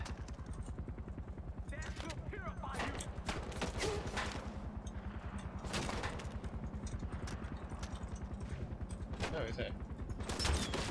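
Sniper rifle shots and other gunfire in Far Cry 4 gameplay, a string of sharp reports over a constant low rumble, with someone talking throughout.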